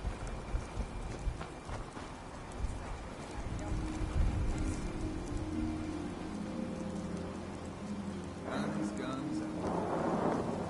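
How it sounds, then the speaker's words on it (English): Steady rainfall in Fallout 4's Far Harbor hisses through the whole stretch, with low rumbling underneath and a brief brighter burst near the end. "I love that rain sound."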